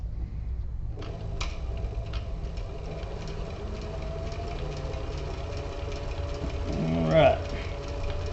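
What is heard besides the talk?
sewing machine stitching leather tablet case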